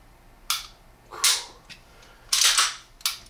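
A SIG P220 Compact SAO pistol, a German-made frame, dry-fired: four sharp metallic trigger clicks and resets, spaced irregularly and heard close and loud against a quiet room with no talking.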